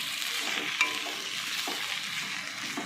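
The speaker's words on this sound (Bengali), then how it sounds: "আর একটু কাঁচা তেল দিয়ে দিলাম দিয়ে একটু মিশিয়ে নিচ্ছি" Colocasia greens with poppy seed, lemon juice and raw oil being mixed in a pan, a close, steady soft sizzle with a few brief scraping stirs and no voices over it.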